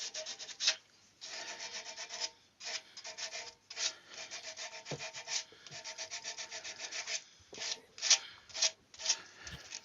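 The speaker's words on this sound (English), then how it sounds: "So much easier when you can sand this with it spinning, isn't it?" Hand sanding of a turned wooden cabriole candlestick, a faint raspy rubbing in uneven back-and-forth strokes with short pauses between passes, close and alone without talk.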